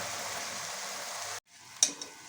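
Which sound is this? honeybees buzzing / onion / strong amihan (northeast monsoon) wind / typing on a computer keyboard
onion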